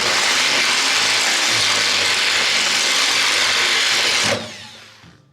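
Power drill with a hand-sharpened bit boring a hole, a steady grinding whine running for about four seconds before it cuts off and winds down.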